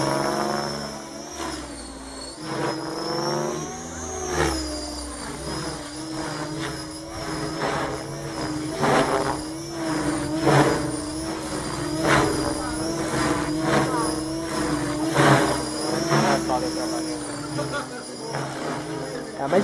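A KDS Innova 550E flybarless electric RC helicopter in flight, its rotor whine and buzz rising and falling as it accelerates, loud and continuous, with people talking over it.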